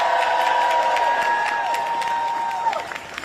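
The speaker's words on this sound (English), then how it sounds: "Please give them another round of applause." Crowd at an outdoor protest by CFPB employees applauds and cheers steadily, a dense wash of clapping with shouts and whistles throughout, thinning toward the end.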